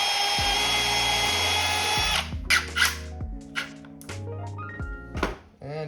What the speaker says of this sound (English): Drill a little hole.